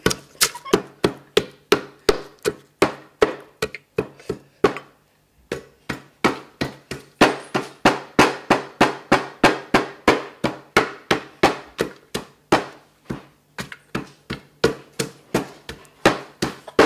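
Garlic being smashed for a Tum Mak Houng salad, a fast, steady run of sharp pounding thuds, close and loud, with a short pause partway through before the pounding resumes.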